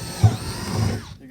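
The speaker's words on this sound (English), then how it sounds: "You're going to drill 2 holes right in the middle" A power drill bores holes through the bottom of a plastic 55-gallon barrel and its lid, giving a close, grinding mechanical whir with a low thud early on that trails off at the end.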